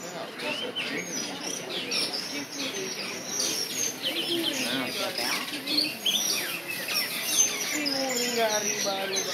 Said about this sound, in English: There's a lot of them in this tree.